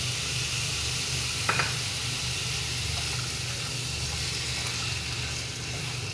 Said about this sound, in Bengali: মশলাটা একটু কষতে হবে 5 মিনিট